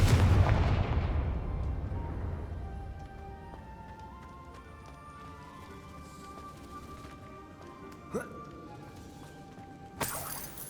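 Confringo fire spell blasts in Hogwarts Legacy: a heavy boom that rumbles and decays over a couple of seconds, followed later by two sharper, shorter impacts amid quiet game ambience.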